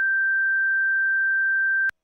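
A steady 1600 hertz sine test tone holds at one pitch, clean and loud, then cuts off abruptly with a click just before the end.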